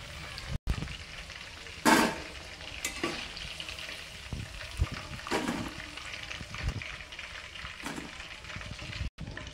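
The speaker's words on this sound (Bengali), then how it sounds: "বাকিগুলো আবার আমি তেলের মধ্যে দিয়ে দিলাম" Battered pakoras sizzle and crackle as they fry in hot oil, a steady close frying hiss with occasional stirring scrapes and bursts, heard alone without talk.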